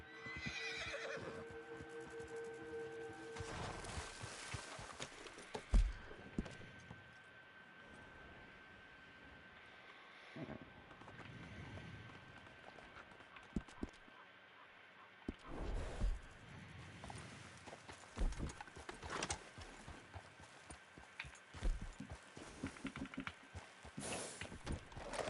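Horses in the Red Dead Online video game neigh and whinny, with hooves clip-clopping at intervals over a quiet outdoor game ambience; the calls come and go in scattered bursts rather than continuously.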